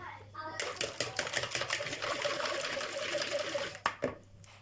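Five spoonfuls of yogurt whisked briskly in a bowl, a quick rhythmic scraping and slapping that starts suddenly, runs for about three seconds and ends with a couple of final strokes.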